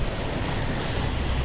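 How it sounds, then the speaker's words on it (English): Ocean surf on Maui, Hawaii, a steady dense wash of breaking waves and wind rumble, loud and continuous with no voices. "listening to the ocean and breathing our way through it"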